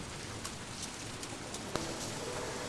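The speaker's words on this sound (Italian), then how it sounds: "mentre continua a piovere sia nel gioco che qua dove sto io" Steady rain hisses softly and evenly in the game Toby: The Secret Mine, a faint wash of falling drops with a few small taps and one sharper tick.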